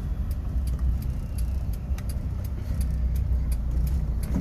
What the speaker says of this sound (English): so it's loud, but watch, we're accelerating.